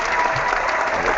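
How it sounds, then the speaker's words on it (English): A small group of people clapping, steady and close, briefly filling the room without a break. "We're clapping because he's gone."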